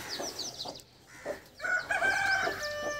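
On an open-area farm, desi chickens cluck softly in short bursts before a rooster lets out a long, loud crow that dominates the second half, with more clucks continuing underneath.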